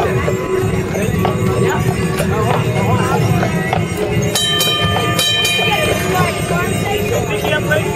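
Horse-drawn streetcar at Disneyland, hooves clip-clopping steadily with faint rumbling and metallic clinks from the car, set amid crowd chatter and people talking nearby.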